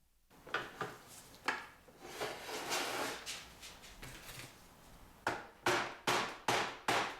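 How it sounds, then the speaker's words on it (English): A hammer taps the plastic hose of a Dyson DC17 Absolute vacuum with a series of sharp hollow knocks, some scraping and rubbing between, then five evenly spaced firm taps at the end. "I did have to use the hammer here"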